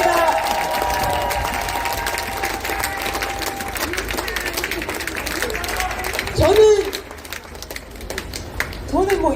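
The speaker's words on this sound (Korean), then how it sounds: "다시 한번 먼 길을 달려와 주신 이탄희 의원님께 뜨거운 박수 부탁드리겠습니다" Crowd applause at an outdoor election campaign rally beside Guseo Market in Geumjeong-gu, Busan, steady clapping and cheering from a street audience throughout, with a voice rising briefly over it near the end.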